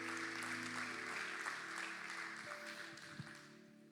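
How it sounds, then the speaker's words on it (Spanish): Church congregation applauding during a Spanish-language sermon, a steady wash of clapping held throughout at a moderate level, with a sustained musical tone from instruments underneath and fading slightly toward the end. "Alguien debería darle un aplauso fuerte a Jesús"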